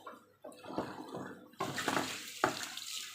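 Tap water runs into a sink while meat is rinsed, starting softly and swelling into a fuller gushing splash with a brief clatter near the end.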